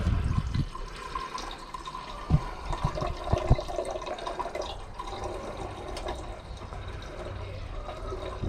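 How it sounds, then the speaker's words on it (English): Fine gold solution recovered from pinned CPUs is poured off into a beaker, a steady trickling and splashing of liquid with a few small clinks, close and fairly loud. "So for now I'm just going to pour this off into this beaker."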